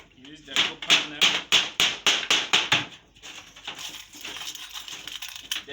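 Nail being hammered into a wooden beehive box: about nine sharp, evenly spaced knocks, close and loud, followed by softer handling noise and faint background sound.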